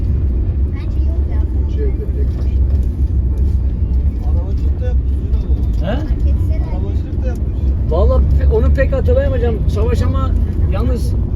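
Cars and minibuses drive by on a road near Tirilye, Mudanya, a steady low engine rumble with passing vehicles swelling under close, continuous talk.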